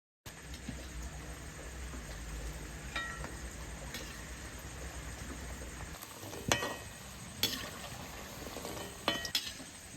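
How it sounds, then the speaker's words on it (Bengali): Madan kotkoti, a Bengali sweet, frying in hot oil gives a steady soft sizzle, punctuated by a few sharp clinks of utensils against the pan near the end. No one speaks. "বাকি মদন কটকটিগুলো এইভাবেই ভেজে নেব"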